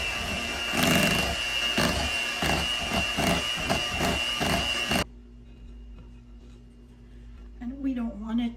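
An electric mixer beats 150 mL of whipping cream for a triple-layer chocolate cheesecake, a loud rhythmic whirring with periodic pulses for about five seconds, then stopping abruptly as a voice speaks quietly in the kitchen.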